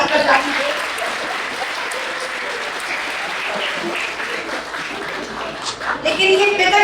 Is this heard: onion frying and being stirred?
no